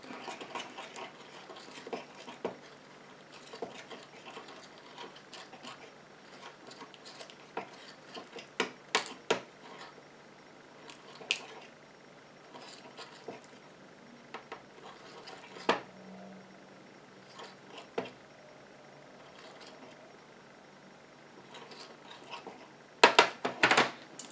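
Lip gloss ingredients being mixed in a small container for a nude beige-pink shade: faint, scattered clicks and light scraping ticks, quiet and close, with a few sharper taps near the end and no talking.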